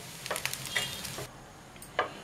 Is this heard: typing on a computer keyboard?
no